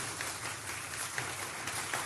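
Studio applause played on a talk radio show: steady, dense clapping that runs throughout at moderate level, with no voices over it.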